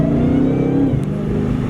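A brand-new Dodge Challenger Hellcat fitted with a Legmaker intake revs up close by in cold weather. The engine note climbs and then drops back, and a thin whine rides over the rumble, with no talk.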